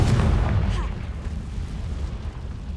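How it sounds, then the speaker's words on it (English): The Confringo fire spell blasting in Hogwarts Legacy, a heavy booming explosion that hits loud at the start and rumbles away over a few seconds. "Confringo!"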